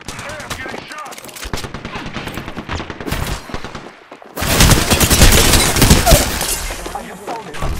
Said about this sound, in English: Hey, I'm getting shot.